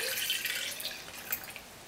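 Water is poured into a glass of wine and splashes over the rim, a burst of bright, close splattering and dripping that settles into a few scattered drips, with no talking.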